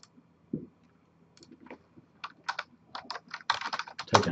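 Keys clatter on a computer keyboard as a short command is typed into a command prompt on a client PC, starting with sparse single taps and speeding into a dense burst of close, crisp keystrokes.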